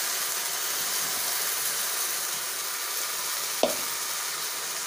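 Crabs fry with spices in a pan, giving a steady, moderate sizzling hiss with a single sharp utensil clack partway through and no talking.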